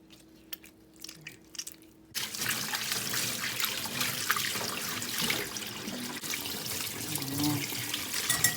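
Water runs from a faucet as chicken gizzards are washed in a sink, a continuous splashing stream that starts after a couple of seconds of quiet handling noises, close by and alone.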